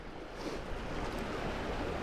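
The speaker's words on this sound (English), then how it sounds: "the water's pushing up over the rocks" Sea water surging up over coastal rocks at a fishing spot, a continuous close wash of surf with a soft breathy roar, fairly quiet and with no voices.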